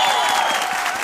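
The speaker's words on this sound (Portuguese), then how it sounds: "Mas vamos aplaudir agora o aniversariante de uma forma mais entusiasmada" A congregation at a Christmas concert in a church claps enthusiastically in a dense, continuous burst, loud and close, with no voices standing out.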